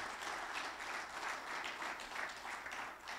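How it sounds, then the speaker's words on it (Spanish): Congregation applauding during a church service, a steady wash of clapping hands that swells and dips slightly in waves, sustained and fairly distant throughout. "Démosle un aplauso al Señor"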